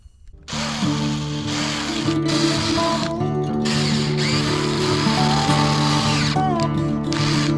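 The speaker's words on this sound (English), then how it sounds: "I cut this whole thingy and drill a new hole" A power drill bores a new hole through a battery link for a 44 kWh battery pack, starting after a brief pause, then whining steadily with a strong pitched tone and small stutters as it cuts.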